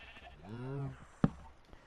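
Sheep in the Minecraft video game give a single wavering bleat lasting about half a second, fairly close, followed by a sharp thump and faint background sound, with no speech.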